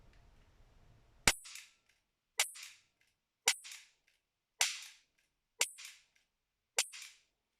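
A gun shooting at a target fires six sharp shots, each followed by a short decaying echo, spaced about a second apart after a brief quiet lead-in.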